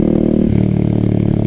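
Kawasaki ZX6R motorcycle engine fitted with an Indonesian-made Maskov exhaust, a loud, close, deep idling burble that briefly shifts pitch as it settles.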